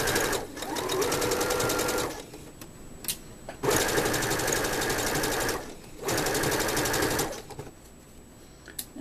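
A domestic sewing machine stitching lace onto a decorative pillow runs in steady, fast whirring bursts of about two seconds each, separated by short pauses, close and clear with no voices.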